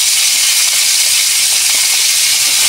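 Chopped prawns and onion hit hot oil in a pan, producing a steady, loud, broadband sizzle that hisses continuously without pause or speech.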